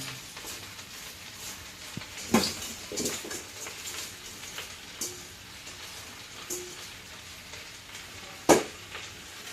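Cabbage fries in a pan with a steady soft sizzle, punctuated by a few sharp clanks and stirring scrapes of a utensil, with no talk.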